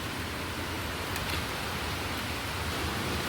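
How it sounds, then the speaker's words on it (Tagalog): Heavy rain pours down outdoors on a street, a steady dense hiss with no breaks, fairly loud and continuous throughout with no voices. "Nakita niyo ba yung ulan? Lumakas yung ulan."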